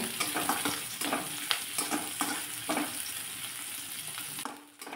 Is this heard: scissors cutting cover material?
no